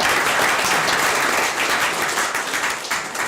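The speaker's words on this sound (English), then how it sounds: "We'll give you a round of applause right now." A city council meeting audience gives a round of applause, a dense, steady burst of many hands clapping that carries on throughout and tapers slightly at the end, with no talking.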